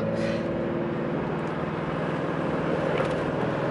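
Car engine drones steadily in third gear while driving, a constant close hum with rumbling low harmonics and road noise, no speech over it.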